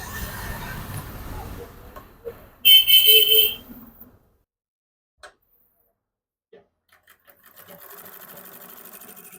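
An overlock sewing machine stitching with two threads gives a loud, fast mechanical whir for about a second, then falls to near silence with a few faint clicks before low hum returns.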